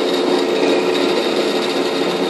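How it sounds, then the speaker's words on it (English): A power drill with a 3/16 cobalt bit drills a starter hole, whirring loudly and steadily at close range, a continuous high motor whine with no pauses. "We're going to drill a starter hole here for the blocking bar slot"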